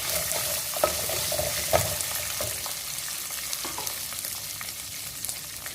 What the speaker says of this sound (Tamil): இதையே நல்லா நம்ம வதக்கிக்கலாம்.